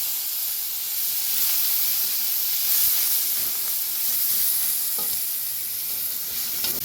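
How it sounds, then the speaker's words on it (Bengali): Onion paste and nigella seeds frying in hot oil, a bright steady hissing sizzle with a gentle swell and light stirring scrapes, close and continuous. "এই যে তেল গরম করে নিয়েছি, তেলে দিয়ে দিচ্ছি প্রথমে একটু কালো জিরে।"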